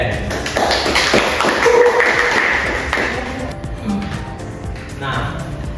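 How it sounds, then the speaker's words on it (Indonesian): A classroom of students clapping briefly for a classmate, dense close hand claps for about three seconds that thin into a few scattered claps as voices carry on. "tepuk tangan dulu untuk Ukren"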